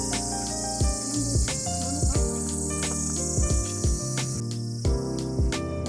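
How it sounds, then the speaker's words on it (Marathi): On a quiet hill road on Elephanta island, crickets keep up a steady high chirping, with repeated low sweeping pulses underneath. "इकडे रातकिड्यांचाही आवाज ऐकू येतो."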